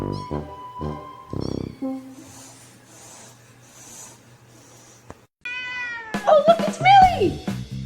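A cat gives several loud, close meows, a few short calls early on and then a longer drawn-out wail near the end, mixed in with people talking and exclaiming.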